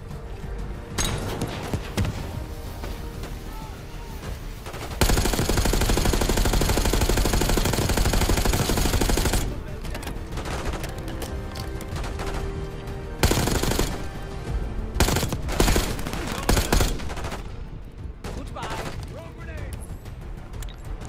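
Rapid automatic gunfire from Call of Duty Black Ops 6, with a long sustained burst in the middle and further loud bursts and impacts later, mixed with game sound effects.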